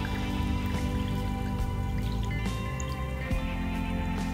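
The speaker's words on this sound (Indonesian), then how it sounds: "Kita langsung tuang airnya dulu." Water is poured for a drink, a steady close splashing trickle with scattered drips and small knocks throughout.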